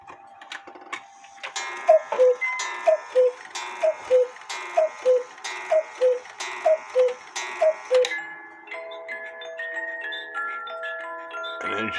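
An 8-day cuckoo clock with a bell ringer and an Oompa band plays a bright, music-box-like tune. Regular paired cuckoo calls sound over it for several seconds before the melody winds down alone and close by.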